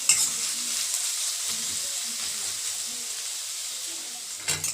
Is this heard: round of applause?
no